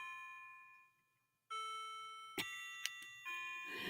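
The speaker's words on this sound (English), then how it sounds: "There's the bells, Bonnie." Bells ring out in a quiet indoor room, a couple of bright struck tones with sustained ringing overtones following a short hush, fairly close and clear.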